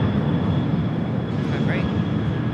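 A Boeing 747 rolls down the runway at LAX, a steady jet rumble heard in the distance under ongoing talk for a brief moment.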